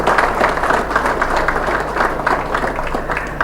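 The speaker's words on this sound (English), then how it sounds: "Can we give them a hand clap?" Crowd applause at the East African Community Military Games opening ceremony, a dense continuous clapping wash from a large audience, fairly loud and steady with a faint low hum underneath.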